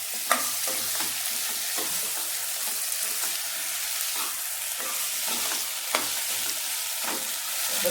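Mutton legs stirred and fried in masala, with a steady sizzle running throughout and a string of scraping stirs from a spoon against the pan.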